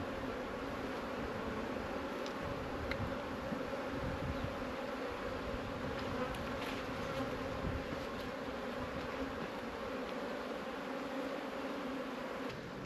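Honey bees at an open hive stuffed with crystal-clear borage honey keep up a dense, steady buzzing close by, with single bees humming past now and then over the continuous drone.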